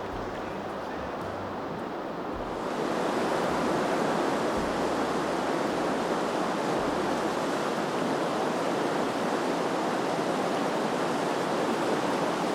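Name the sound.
river rapids where Pickerel River flows into Sturgeon Lake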